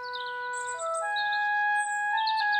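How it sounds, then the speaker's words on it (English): A little cartoon bird sings a bright, steady series of sustained whistled tones that shift in pitch, with light chirps above, heard alone and fairly close. "it's so lovely to wake up to the song of a little bird"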